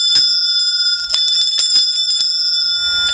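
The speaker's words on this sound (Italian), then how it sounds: "finiamo con una bella suonata di campana" A small hand bell is shaken and rung by a child, producing a rapid, uneven series of bright metallic dings that keep ringing between strikes, loud and close.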